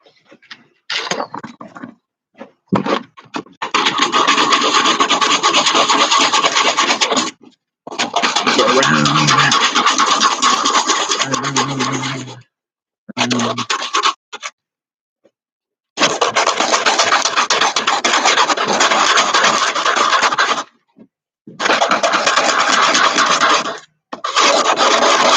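A homemade wooden handle for a sliding door is smoothed by hand, loud, close rasping strokes in long bursts separated by short silences, with an occasional lower squeak, and no voices.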